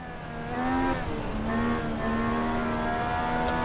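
A Legends race car engine in the iRacing sim on a dirt track drones and whines, its pitch rising and dropping through gear changes, steady and fairly close, with no talking.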